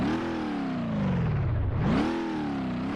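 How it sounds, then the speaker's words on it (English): A synthetic car engine in BeamNG.drive hums steadily, its pitch sinking low and then climbing back up as it revs, with no other sounds. "you can hear that old sound. There it is. There is our engine."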